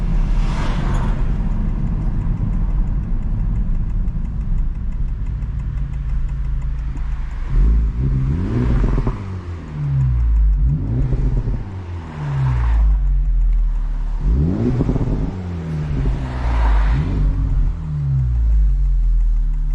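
A Honda Civic Type R engine hums steadily while driving, then rises and falls through several revving pulls with a deep exhaust rumble, close and loud, no talking.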